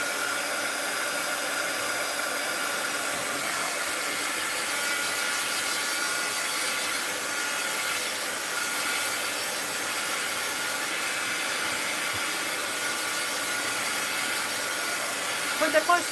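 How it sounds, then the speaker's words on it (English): A heat gun blows hot air across a painting in a steady, loud, unbroken hiss that holds at one level throughout, with a few small bumps right at the end. "let's give this a little heat gun action"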